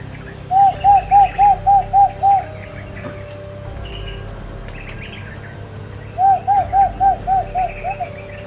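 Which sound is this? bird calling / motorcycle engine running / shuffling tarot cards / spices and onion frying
bird calling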